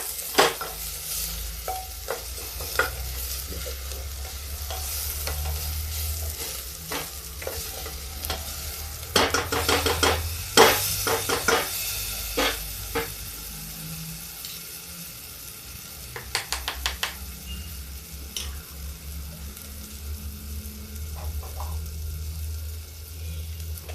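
Onions fry in smoking-hot oil in a pan, a steady low sizzle broken by bursts of spatula stirring and scraping that come in irregular clusters.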